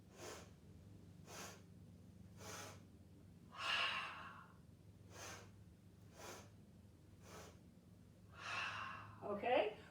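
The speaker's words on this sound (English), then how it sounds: "So I'm going to exhale" Forceful, breathy exhalations from an energizing stress-relief breathing exercise, about nine sharp puffs in a steady rhythm roughly once a second, close and clear over a low background hum.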